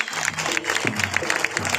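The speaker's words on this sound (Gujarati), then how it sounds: "ત્યારબાદ માટે એકવાર જોરદાર તાળી" Applause at a Charan community birth-anniversary celebration in Jamnagar, a brief burst of many hands clapping in a rapid irregular patter, with a voice over a loudspeaker droning underneath.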